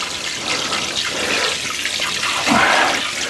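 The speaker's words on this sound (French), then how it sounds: "je mets quand même pas mal d'eau" Water pours steadily into a large bowl, a loud continuous rushing splash that swells toward the end, with no voices.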